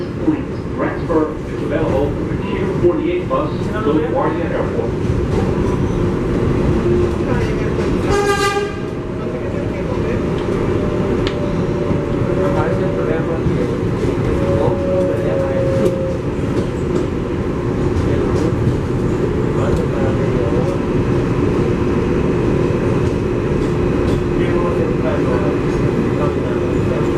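A New York subway 7 local train rides along with a constant low rumble and rattling wheel clatter, a brief rising tonal sweep partway through, and announcement voices over the car noise.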